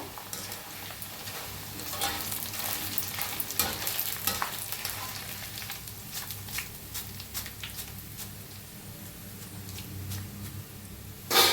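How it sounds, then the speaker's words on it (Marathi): Corn kernels frying in hot oil for chivda make a close, continuous sizzle with bursts of sharp crackling pops and a few stirring scrapes, with no talking, ending in a louder clatter. "आता थोडं थोडं करून तळून घेऊया लगेच तळते उशीर नाही लागत ह्याला"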